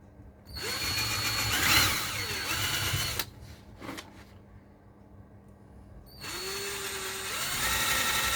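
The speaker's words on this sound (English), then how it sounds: "get my drill bit roughly in the middle." A power drill bores into a model bridge diorama in two loud bursts, the first running about three seconds and the second starting after a pause of a few seconds, with a short buzz of the motor between them.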